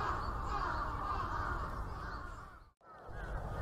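Many crows gathering and cawing in Kinuta Park, a dense chorus of harsh calls at moderate distance over outdoor ambience, briefly dropping out near the end before resuming.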